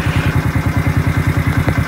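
Motorbike engine idling up close with a steady, rapid clattering throb, loud and continuous as the bike is brought indoors into a house.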